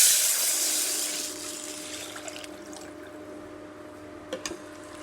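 Tamarind water, strained clean, poured into a pan of rasam with masala and small onions for a thuthuvalai cold-and-cough rasam, a steady liquid hiss and trickle that thins out over a few seconds, followed by faint drips.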